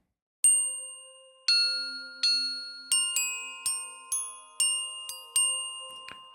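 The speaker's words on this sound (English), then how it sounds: "Meditation chimes." Meditation chimes ring one after another in a clear, resonant sequence, each bright metallic strike sustaining and decaying, some overlapping, in an otherwise quiet space.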